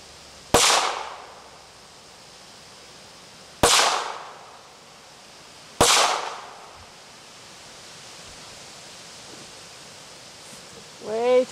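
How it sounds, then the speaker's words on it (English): Three sharp gunshots from a scoped Ruger MKIII .22lr pistol fired at a target outdoors, spaced about two seconds apart, each a loud crack with a short decaying tail, followed by quiet ambience and a brief faint sound. "I can shoot right over to the target right there"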